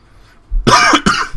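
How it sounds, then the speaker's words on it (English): A single person gives a loud, close cough in two quick harsh bursts after a moment of near silence, with no other voices. "I have a bit of a cough"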